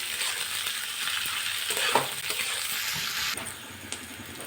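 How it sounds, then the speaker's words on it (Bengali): Two medium chopped onions frying in oil with a bay leaf in a pan, a steady close sizzle with occasional stirring scrapes and soft clinks, continuous throughout. "পেঁয়াজটা এখন খুব ভালোভাবে ভেজে নেব।"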